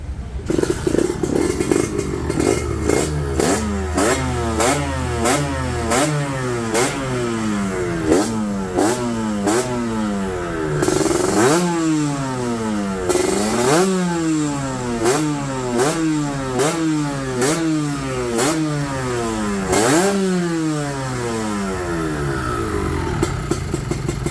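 A motorcycle engine revs repeatedly up and down, rising and falling in pitch with a rough, rattling exhaust, loud and close.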